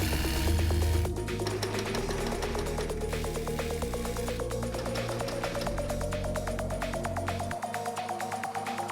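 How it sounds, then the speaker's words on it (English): A sewing machine hemming the neckline and armholes of a simple stretch-fabric top runs in a steady close mechanical whir, its stitching rhythm rising gradually in pitch and speed before a brief pause and restart. "we can now hem it all around the neckline and the armhole areas"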